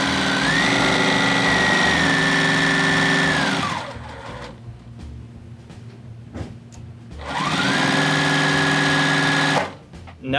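Sewing machine stitching fabric for a scrappy DIY dog bed, two long steady runs of fast whirring stitches close up, separated by a pause with quiet handling and shuffling of material.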